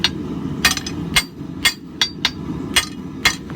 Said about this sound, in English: just a good bit of hammer work.